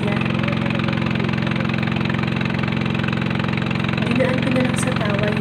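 A motorized outrigger boat (bangka) crossing the sea to Eastern Samar, its engine a steady, loud, continuous drone with an even low throb running unbroken throughout.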